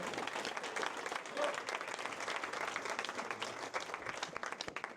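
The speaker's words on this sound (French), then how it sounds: "On peut les applaudir." Audience applause at a school anniversary celebration, a dense, even patter of many hands clapping together, steady and fairly distant throughout.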